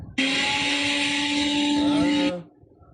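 A blender whirs loudly and steadily for about two seconds, its motor tone holding even before cutting off abruptly into quiet.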